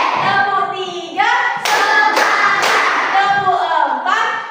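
Students standing in a Hindu religion and character education class clap their hands together in a counted ice-breaker: several loud, sharp group claps in a regular rhythm, close by, mixed with voices chanting the count.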